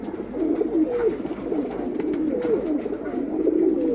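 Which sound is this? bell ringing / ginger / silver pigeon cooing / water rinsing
silver pigeon cooing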